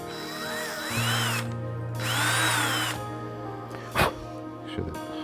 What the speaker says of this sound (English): I'm not going to drill all the way through because I could go right into my hand